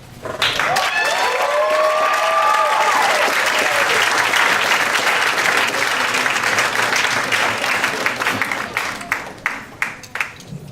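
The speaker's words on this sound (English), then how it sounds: "Can we give her another round of applause?" A crowd at a poetry night bursts into loud, sustained applause for a poet, dense clapping with cheers and whoops rising early before the clapping tapers into a few separate claps at the end.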